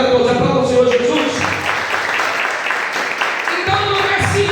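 A church congregation breaks into sustained applause, a dense wash of clapping filling the room, with a voice speaking over it at the start and again near the end.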